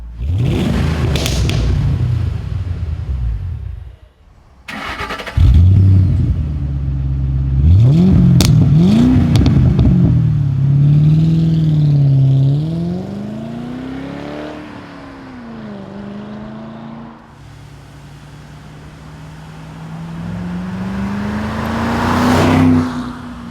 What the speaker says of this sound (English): Adds a nice rumble without being too loud.